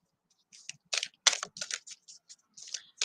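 Quick bursts of typing on a computer keyboard, with close, crisp key clicks in short irregular runs separated by silent pauses.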